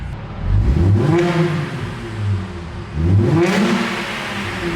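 A car engine revs up twice, rising in pitch and then dropping back, loud and close with no talking.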